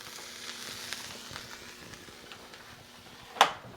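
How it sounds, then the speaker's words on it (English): A cheese quesadilla sizzles in a pan as the cheese melts, a faint, steady crackling fry with one sharp click near the end. "Start hearing that fizzle, that means we're getting somewhere."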